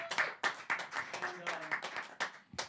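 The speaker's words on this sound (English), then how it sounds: "Big round of applause from our band to the bunker." A handful of people clap in scattered, sharp bursts at a live reggae rock band session held in a bunker, the claps close and uneven, with some talk mixed in.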